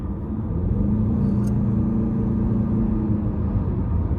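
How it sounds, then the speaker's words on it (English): A 2023 Chevrolet Malibu LT with a CVT accelerates under light throttle, giving a steady, loud, low engine and road rumble heard from inside the cabin, with no talking. "We'll give it a little throttle here."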